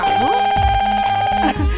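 A mobile phone rings with a looping electronic melody of steady tones. The ringtone repeats loudly and close up, with no talk over it.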